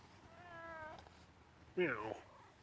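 A house cat meows twice close to the mic, a thin drawn-out cry followed by a louder, sharper one, in a quiet indoor room.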